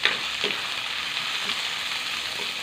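Sliced pork sizzles and fries in a pan with onions, a steady broadband hiss throughout with faint stirring scrapes, close and moderately loud, no talking.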